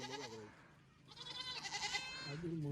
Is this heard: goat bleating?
yes